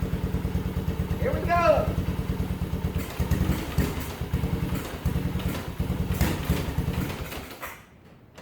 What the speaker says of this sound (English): let's rev her up and see what she does